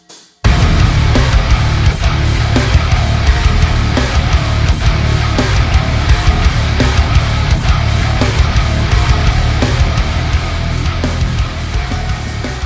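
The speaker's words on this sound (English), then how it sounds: "So using Slate Digital plugins, I'm able to create a mix that sounds something like this." Dense, loud metal music mix built with Slate Digital plugins, with heavy distorted guitars and steady pounding drums filling the whole stretch without pause after a brief opening hit.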